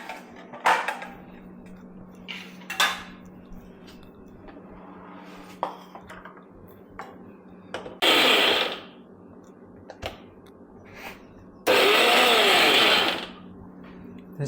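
A kitchen mixer grinder blitzes coconut, carrot and curry leaves for a thoran in two short, loud, whirring bursts, with quieter clinks and handling noises between them.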